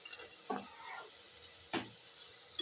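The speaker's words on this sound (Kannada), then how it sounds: "ಕಡಲೆಕಾಳು, ಬಟಾಣಿ ಕಾಳನ್ನ 4 ಅವರ್ ನೆನೆಸಿ ಇಟ್ಟಿದ್ದು, ಅದನ್ನು ಆ್ಯಡ್ ಮಾಡ್ಕೊಳ್ತಾ ಇದ್ದೀನಿ." Soaked chickpeas and peas stirred in a pan: a faint background hiss broken by a few sharp scraping knocks of a spoon against the pan.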